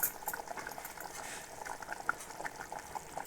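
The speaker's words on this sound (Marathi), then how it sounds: "तर म्हणजे हो बघा मस्तपैकी उकाडविलो" Cashew curry boils quietly in a pot, giving a soft, continuous bubbling with small pops, with no one talking.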